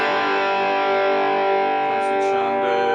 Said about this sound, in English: you can switch on the distortion here.